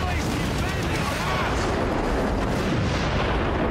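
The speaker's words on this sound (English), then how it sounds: "they're also anti-air guns" Anti-air guns in the video game Haze fire continuously as a dense, loud barrage of booms and rumbling blasts. The noise is unbroken for the whole stretch, and speech-like sound mixes into it.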